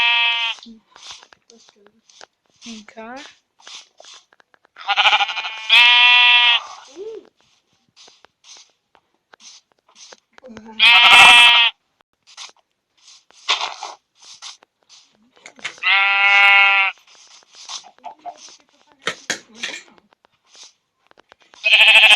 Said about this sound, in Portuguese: Vem cá, ovelha.